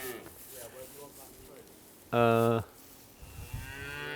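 Calves on a farm, one loud close moo lasting about half a second, set between quieter stretches of people talking and background farm noise.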